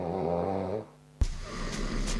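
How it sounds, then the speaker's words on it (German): Snoring during a night's sleep, checked with an anti-snoring pillow that vibrates and has air cushions: a low, rumbling inhaled snore fades into a brief pause, then a sharp snort opens a breathier, noisier stretch, close and fairly loud. "Total geschnarcht."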